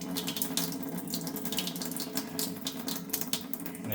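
Steady rush of water running from an opened tap in a house to empty the supply pipes, a continuous broadband hiss held at even loudness throughout with no voices.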